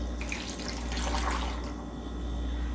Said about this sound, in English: So I'm going to add a little water.